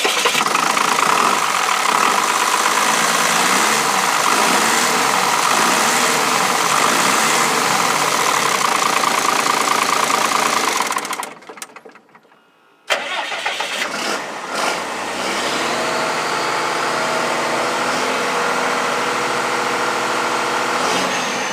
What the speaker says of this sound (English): I'll go fire the truck and I use the inside accelerator to accelerate the engine